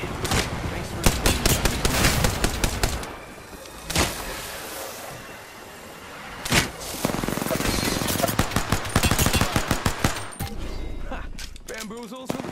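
Rapid automatic gunfire in Apex Legends, dense rattling bursts across most of the stretch, broken by brief pauses and a few single loud shots, with game sounds mixed in.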